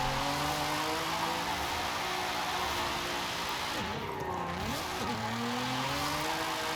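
A Nissan Nismo Z drifts in Forza Horizon 5, its engine droning steadily with pitch dips and rises as revs drop and climb, loud and continuous throughout.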